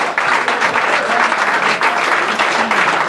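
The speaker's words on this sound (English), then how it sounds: "Big round of applause." A live audience breaks into sustained, dense applause at a Red White and Bid event, a steady wash of many hands clapping at close range with crowd noise mixed in, continuing without pause.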